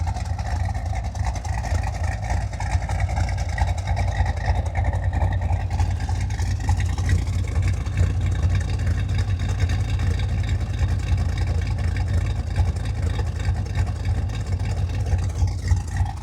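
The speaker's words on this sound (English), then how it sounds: "Listen to that exhaust." A deep, steady exhaust rumble from a 1973 Chevrolet Corvette with a 383 stroker small-block V8 dominates throughout, loud and close with a constant low-pitched throb.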